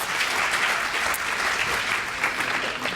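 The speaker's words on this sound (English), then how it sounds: "if we could give one more round of applause to President David Malpass" Sustained applause from an audience honoring World Bank Group President David Malpass, a steady, dense wash of clapping that stays even and fairly close for the whole stretch.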